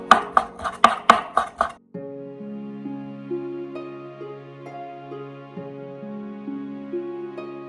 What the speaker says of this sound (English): I have to cut out the shrimp into small pieces and then mix it up with the ground pork